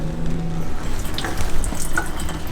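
Drain treatment liquid poured into a household drain, a continuous gurgling, splashing stream at close range, fairly loud and without voices.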